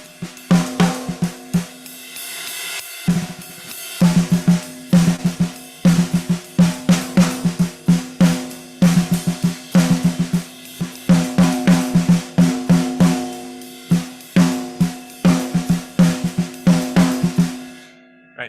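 A lone snare drum plays improvised patterns over a steady, unwavering groove. The crisp strokes are close and loud, with dense rolls and accents in a continuous rhythm and no talking.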